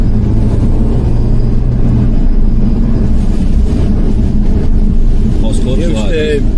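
A stock Mini Cooper S R53 drives on the road with a steady, loud engine and road rumble throughout, and a brief whistling whine near the end.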